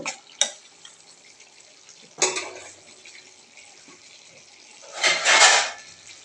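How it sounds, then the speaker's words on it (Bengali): Tomatoes being stirred into a tengra fish curry in a pan, heard as a few sharp clinks and scrapes of a utensil with quiet gaps between them, ending in a louder rustling stir. "টমেটো দিয়ে সুন্দর করে নাড়াচাড়া করে নিল।"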